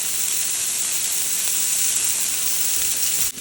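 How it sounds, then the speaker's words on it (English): Onion with teaspoons of cumin and curry powder sizzles hard in a hot pan. The frying gives a loud, bright, continuous hiss, and near the end there is a brief clatter as it stops. "cook this onion until it becomes translucent, and I'm going to go ahead and add my spices now."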